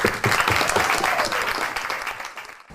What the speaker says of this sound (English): And a big round of applause for her.